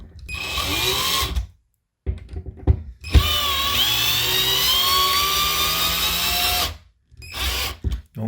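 A cheap handheld power drill drives screws into a toilet paper holder: loud whining bursts of about a second, then a long sustained run, separated by silent pauses and small clicks.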